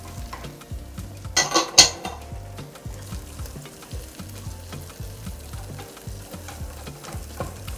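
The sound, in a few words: sautéing cooked kidney and carrots in a pan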